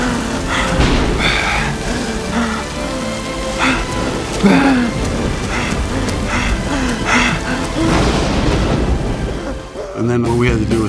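Overhead rain rigs pour artificial rain on a film set, a loud, continuous hiss and patter of heavy water with irregular heavier splashes, close and steady throughout.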